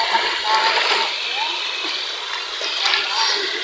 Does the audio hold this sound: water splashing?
yes